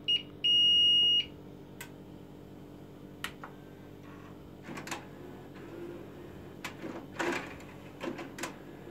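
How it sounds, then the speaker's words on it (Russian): A music centre's built-in buzzer gives a short electronic beep, then a longer steady tone near the start, loud and close, followed by quiet handling noises and light clicks. "Вот только вот эта скотина пищать все время будет."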